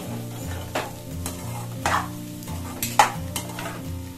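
A spoon stirs salt into a village-style country chicken curry in a pan, scraping and clinking against the metal in several separate strokes over a low simmering sizzle. The sounds are close, and no one speaks.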